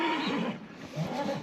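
Horse whinnying, a loud close neigh with wavering pitch that rises, dips and rises again, alone over faint outdoor background.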